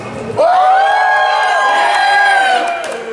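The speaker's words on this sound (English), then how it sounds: "Anybody, can we get a cheer for zombies?" Convention crowd at a film premiere panel erupts in a sustained, loud cheer with whoops and shouts, rising sharply and holding for a couple of seconds before tapering off.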